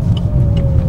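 An MG6 car fitted with a tuning box accelerates flat out, a loud, close engine drone with a steady rising tone over a brief moment.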